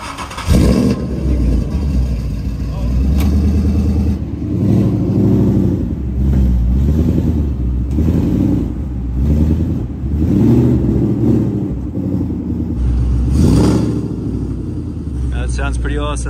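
An 810-horsepower supercar at Monterey Car Week fires up and revs, a loud deep rumble rising and falling in repeated throttle blips over a steady idle, with crowd noise around it.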